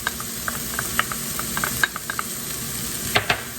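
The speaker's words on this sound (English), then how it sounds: "Cook this until the onions are nice and soft. Add in your garlic until it just becomes fragrant." Onions and garlic fry in a pan, giving a steady close sizzle broken by scattered clicks and taps of a stirring utensil, with a sharper cluster of clatter near the end.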